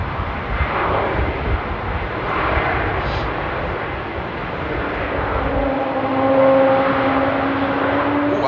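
An Embraer E2 jet airliner at Amsterdam airport during a storm, a loud sustained engine roar with rising whine tones as it passes close, mixed with wind noise.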